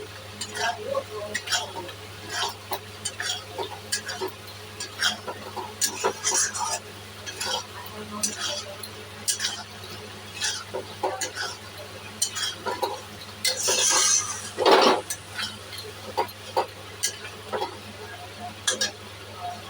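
Potatoes tipped into frying masala for aloo dum, with repeated scraping stir strokes and clinks of a spoon against the pan, steady sizzling underneath and a louder rush of frying near the end, mostly without talk.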